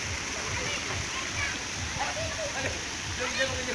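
Kids splash and bathe in an outdoor kids' pool, with continuous light water splashing and sloshing at moderate distance and voices and chatter mixed in throughout.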